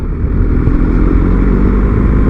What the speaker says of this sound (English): the engine spins up into its sweet spot and it accelerates really nicely